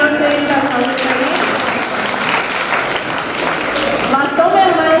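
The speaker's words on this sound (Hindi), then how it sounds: "एक बार शानदार तालियों से इनका स्वागत करें" An audience at a Vishwakarma Jayanti cultural programme claps in loud, sustained applause throughout, with a voice speaking over the clapping.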